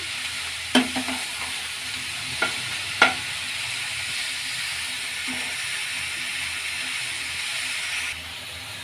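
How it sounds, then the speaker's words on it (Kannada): Oyster mushrooms frying in a pan and being stirred, a steady low sizzle running throughout with a few sharp scraping clicks of the spatula near the start. "ಇದನ್ನು ಮಿಕ್ಸ್ ಮಾಡೋಣ ಚೆನ್ನಾಗಿ ಹಾಗೆ ಫ್ರೈ ಆಗಲಿ"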